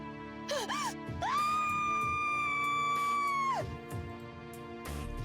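A drawn-out scream from the Fate/Stay Night visual novel, rising sharply and holding steady for about two seconds before cutting off, loud and shrill over a background music bed.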